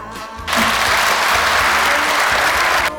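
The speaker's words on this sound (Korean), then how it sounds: "그 용기와 그 결단에 대해서 우선 격려의 박수를 좀 보내드려야 될 것 같습니다." Loud applause of encouragement erupts at a book launch event in Jeonju. After a brief voice, a dense, full roar of clapping starts abruptly and holds steady for over two seconds before cutting off.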